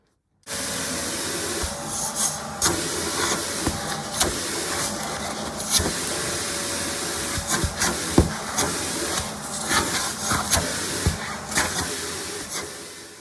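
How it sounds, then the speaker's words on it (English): A vacuum cleaner runs steadily with a broad hissing roar, punctuated by small clicks and bumps as the nozzle moves around the shopping basket of a Cybex Balios stroller. "Then we're going to vacuum out the shopping basket and remove it as well."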